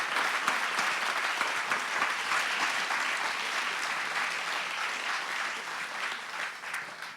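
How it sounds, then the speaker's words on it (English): An audience gives the speakers a round of applause after an onstage conversation, a dense, steady clapping that holds evenly throughout and tapers slightly at the very end, with no voices above it. "let's please give our speakers a round of applause"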